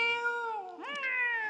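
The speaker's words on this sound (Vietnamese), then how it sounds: "thấy mấy bạn mèo ở đây nè" Two cat meows in a row, the first long and drawn out, the second rising and bending, close and clear with no talking.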